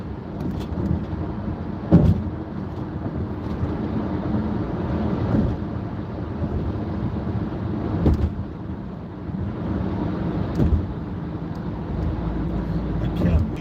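Car driving on the road, a steady low rumble of engine and road noise inside the cabin, with a few soft thumps and a voice talking intermittently.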